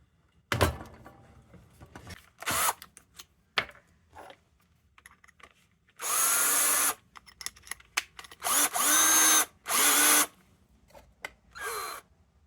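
Power drill with a dull bit boring into material for a DIY Fresnel globe night light, heard in several loud sustained whirring bursts of a few seconds each, separated by short knocks and handling clatter.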